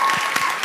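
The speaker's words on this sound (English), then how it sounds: "A little round of applause, please." Brief audience applause at a physics of sport event, a short burst of clapping from a crowd following a request for a round of applause, steady and moderately loud with no talk.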